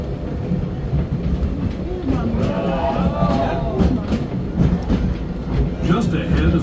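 Disneyland Railroad train rolling along its rails through a jungle-themed stretch of the park, a steady rumbling run with wheel squeal and clatter, heard up close beneath background voices throughout.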